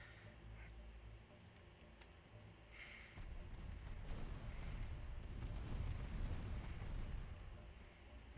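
Naval guns fire in the warship game Ultimate Admiral Dreadnoughts, a dense run of deep booms and rumbling blasts that swells louder and fuller partway through and then rolls on steadily.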